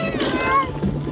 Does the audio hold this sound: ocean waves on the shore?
no